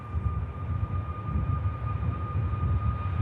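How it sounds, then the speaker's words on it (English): Ryanair Boeing 737 Max 8200 airliner at Manchester Airport, a steady, fairly distant engine roar with a low rumble and a faint whine holding throughout, no voices. "Ryanair Max 8200 heads out"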